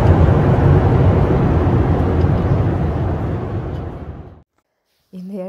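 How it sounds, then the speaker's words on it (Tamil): Loud, steady engine roar inside an airliner cabin during an international flight, broadband and continuous for over four seconds before cutting off abruptly, followed by a brief moment of a voice. "இந்த இடத்துல நான் பேசுகிறது சுத்தமாக கேட்கல ஃப்ளைட்டு ஓட சத்தத்தில்"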